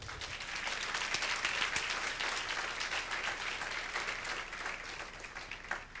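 A church congregation claps steadily and loudly for several seconds, a dense, sustained applause that tapers slightly toward the end.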